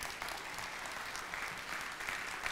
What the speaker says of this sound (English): The louder you clap